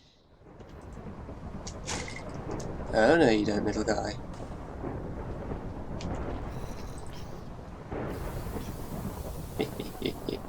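A lightning strike hits a sheep in modded Minecraft, setting off a thunder crack and a rolling rumble with rain-like hiss behind it, while someone talks over the game sounds.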